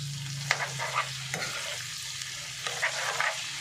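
Bitter gourd being stirred with ginisa mix in a hot pan: a soft sizzle under repeated scraping strokes of a utensil, several distinct stirs in a loose rhythm, close by.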